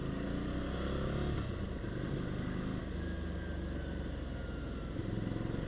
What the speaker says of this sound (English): It's got this grunty sound.